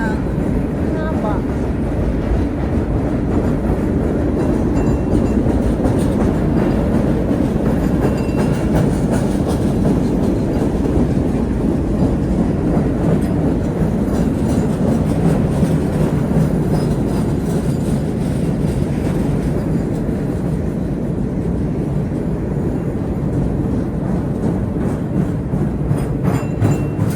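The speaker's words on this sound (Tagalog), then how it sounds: "Haba ng train." Freight cars keep rumbling by on a long cargo train at night at The Forks, a sustained, fairly close roar with faint clacking rhythm under intermittent conversation.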